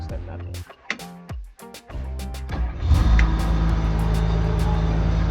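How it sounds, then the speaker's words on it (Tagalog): Old-school backhoe engine cranks with a few stuttering bursts, then catches and settles into a loud, steady diesel idle, heard up close. "Start natin yung bako."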